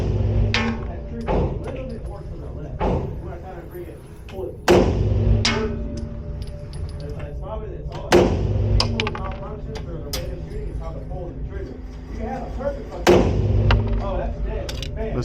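A Walther Q5 Match SF pistol fires 5-shot groups at a 30-foot indoor range. Sharp, loud reports arrive a few seconds apart, with thuds and clinks of range noise between the shots.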